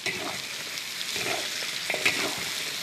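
Pork trotters stir-fried in hot oil in a wok with scallion, ginger, garlic, dried Sichuan peppercorns and chilies, giving a close, continuous crackling sizzle broken by scraping stirs of the spatula.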